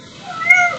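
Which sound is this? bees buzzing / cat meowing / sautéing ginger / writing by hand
cat meowing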